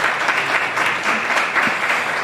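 Audience applause at a community gathering welcoming a Medina MP, steady dense clapping throughout, fairly loud and continuous with no talk over it.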